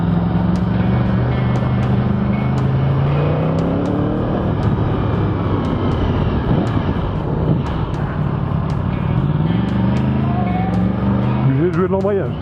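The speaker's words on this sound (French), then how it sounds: "Et là, vous allez voir, en R1, tout ça c'est en première." A 2015 Yamaha R1 motorcycle pulls along a narrow Normandy country road in first gear, its engine droning steadily and loud up close, with rising and falling pitch sweeps and a sharp rev near the end, under constant wind rush.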